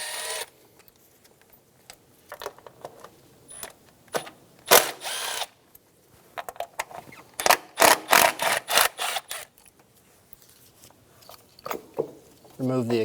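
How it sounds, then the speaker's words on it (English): A power tool backs out 10mm bolts holding the ignition coils on a 2003-2007 Infiniti G35 during left valve cover work, heard as several short whirring bursts with pauses between them, then a denser run of quick pulses near the end. "Remove the 10mm bolts for the ignition coils."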